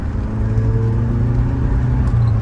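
A 1987 Saab 900 Turbo engine held at about 3,500 RPM, a loud, steady low rumble and whir that stays close and constant throughout without any speech.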